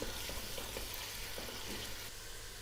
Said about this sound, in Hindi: साथ साथ चम्मच चलाते जाएंगे जब तक कि प्याज लाइट ब्राउन ना हो जाए।